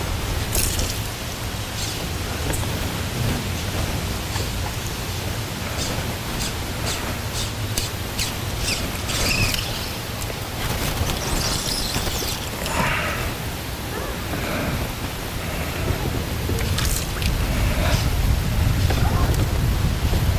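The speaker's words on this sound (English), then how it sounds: "The wind is just blowing me around right now." Strong wind buffeting the microphone outdoors while fishing on the water, a constant loud roar with gusts swelling toward the end, no talking.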